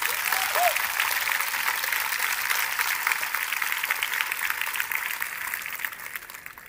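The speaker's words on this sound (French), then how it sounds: "Bonne main d'applaudissements," Concert audience applauding the Orchestre Métropolitain after a Swan Lake performance, sustained dense clapping from a large crowd that slowly tapers.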